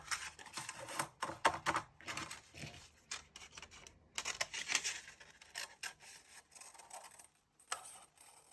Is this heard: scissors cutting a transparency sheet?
yes